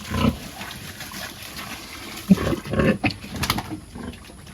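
Danbred gilts grunt and snuffle while eating in a pen, with scattered low grunts over a steady background hiss and some clattering near the middle.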